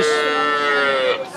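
A Sahiwal Sindhi cow moos once at a cattle market, a loud, close, sustained low bellow that rises and holds before trailing off, with crowd noise faint beneath.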